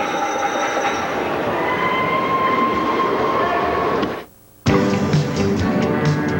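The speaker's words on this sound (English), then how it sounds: "this is a home furnishing train and it's headed to Augusta" A train rolls along in a home furnishings TV commercial aired during a 1989 college hockey broadcast, a loud rumble with rail clatter and faint wheel squeal that drops out for a moment near the end before resuming.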